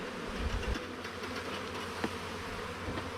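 Honeybees buzz in a dense, continuous drone close by as a small nucleus hive is slid along, with a few sharper bumps and knocks mixed in.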